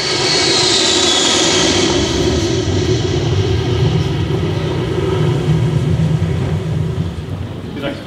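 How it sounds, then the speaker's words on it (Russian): A passenger airliner engine drones loud and steady in flight aboard an Aeroflot first-class cabin, a constant roar with a low hum that eases slightly toward the end. "Мы летим в самолете."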